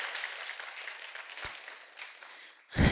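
A church congregation applauds in a steady patter of many hands that fades slightly midway, then a louder burst of sound rises at the very end.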